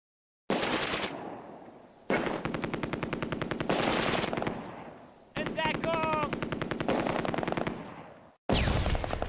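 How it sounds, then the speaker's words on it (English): Long bursts of rapid MG42 machine-gun fire in the Close Combat wargame, several loud sustained volleys separated by brief silences, with a sharp high whine over one burst. "The Piat starts taking fire from an MG42."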